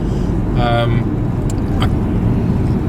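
Road traffic on a journey to Coventry heard from inside a moving vehicle, a steady engine and road rumble running throughout with a brief tonal whine near the start and faint clicks later, with a CB radio nearby.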